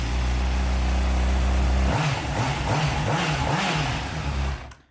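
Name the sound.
rebuilt Honda CBR600RR motorcycle engine running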